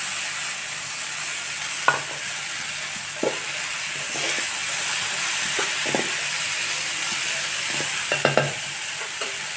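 Boiled field beans stir-frying in a hot pan, a continuous close sizzle with occasional sharp spatula scrapes and knocks spaced a second or two apart, a quick double clatter near the end.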